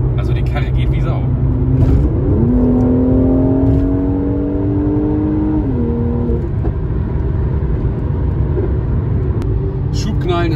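A Mercedes C43 AMG with a Stage 1 tune accelerates hard, its engine droning loudly from inside the cabin with a rising, shifting tone under steady road rumble, while someone talks over it.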